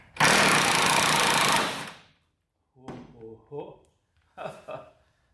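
A Chicago Pneumatic cordless impact wrench hammers loudly for about a second and a half while loosening leaf spring nuts on a Toyota Tundra, then someone speaks excitedly in short bursts.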